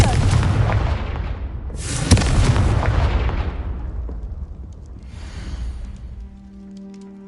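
In a video game, a Confringo blasting spell goes off as a deep rumbling explosion, followed by a second heavy boom that rolls away and fades, then a later softer burst trailing into quiet.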